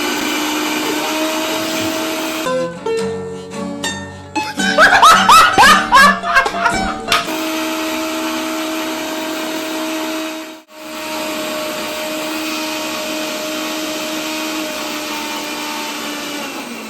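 A kitchen mixer grinder whirring loudly as it grinds ginger garlic paste, a steady high motor drone with a short burst of rattling and laughter in the middle, then an even hum continues.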